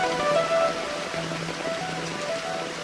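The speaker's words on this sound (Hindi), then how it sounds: "और बारिश हुई" Steady rain falls in the Hindi dub of the anime Idaten Jump, a broad, even hiss of drops on surfaces, constant and close throughout with no talking.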